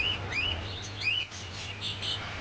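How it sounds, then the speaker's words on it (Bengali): A cockatiel in a bird shop gives several bright, rising chirps in quick succession, close and clear, with no talking. "দেখুন ভাই, এই পাখিটি কি সুন্দর পাখি, নাম হচ্ছে ককাটেল পাখি।"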